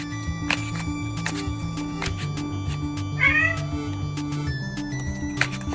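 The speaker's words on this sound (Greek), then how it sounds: "Και η γάτα μου είναι περίεργη αυτή τη στιγμή." A house cat meows once, briefly and fairly faint, against a background of steady low music and clicking noises.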